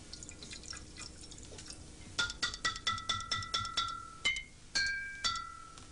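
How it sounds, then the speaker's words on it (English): Water-filled bottles struck one after another, each holding a different amount of water so the tones range from high to low, ringing out as a series of clear, bright notes in an uneven rhythm, close and alone. "I'm making high and low sounds with these bottles of water."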